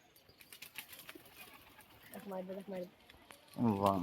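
Pigeons flapping their wings as they take off and fly, soft fluttering bursts under nearby talk, followed by louder close cooing or calls near the end.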